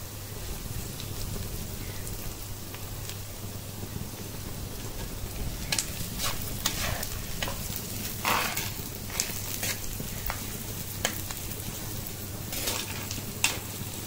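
Coconut pieces, mustard seeds, shallots, green chili and curry leaves sautéing in a pan for inchi puli, giving a steady close sizzle and crackle with occasional stirring scrapes, no talk.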